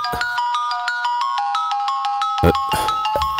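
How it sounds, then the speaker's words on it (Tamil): A mobile phone rings loudly in a Tamil TV serial scene, its repeating electronic ringtone melody running steadily, with brief noisy bursts partway through. "அவதான் போன் பண்றா."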